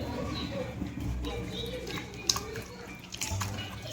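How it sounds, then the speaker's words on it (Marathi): A clean cloth soaked in water in a home kitchen, ready for making thalipeeth; soft close splashing and dripping with a faint murmur behind it and a few sharper drips near the end. "हे स्वच्छ कापड आता आपण पाण्यात भिजवून घेऊ."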